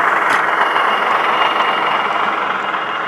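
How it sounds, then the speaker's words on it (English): Heljan Class 27 model locomotive fitted with a sound unit, a steady loud diesel engine drone running continuously with a slight easing of the note, no talk over it. "if I let go of the locomotive, the engine note will drop as it pulls away"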